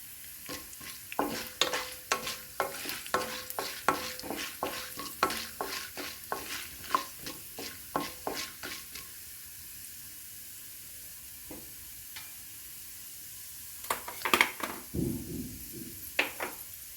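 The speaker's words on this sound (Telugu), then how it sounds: "శనగపప్పు కొంచెం చిటపటలాడేటప్పుడే మినపప్పు వేసామండి" Chana dal, urad dal and coriander seeds crackle and pop in hot oil for a curry leaf pickle, with steady sharp clicks and stirring scrapes, close and moderately loud, and a brief heavier sizzle near the end; no talking.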